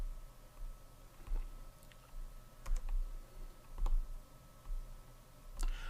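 Someone types on a computer keyboard while working in Visual Studio: close, quiet clicks arrive in short irregular bursts with brief pauses between, over a low background hum.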